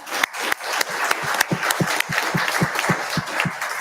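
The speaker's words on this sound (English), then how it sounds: "we can give them a round of applause" A small crowd at a school board meeting claps in a sparse round of applause: a handful of distinct, fairly close hand claps in a loose steady rhythm, with no talking.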